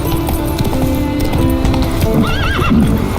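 A horse in Witcher 3 sets off with rhythmic clip-clopping hooves and a clear whinny near the end, fairly close and loud over faint game ambience.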